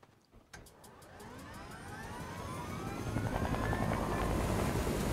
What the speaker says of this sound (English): What is that helicopter? It's a wooden helicopter.